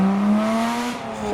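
A replica Bugatti Type 35 pulls away from a car show, its engine note climbing in a smooth rising tone as it accelerates nearby, then fading slightly as it moves off.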